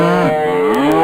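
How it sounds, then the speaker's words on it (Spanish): A cow gives a long, loud, close moo, rising and bending in pitch, in the countryside as travelers pass through the herd's territory. "Parece que nuestra presencia molesta a las vacas como si hubiéramos invadido su territorio."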